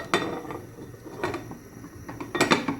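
A metal lid set onto a pot of Greek green vegetable soup: a few light clanks and clinks spread over a couple of seconds, close and fairly soft.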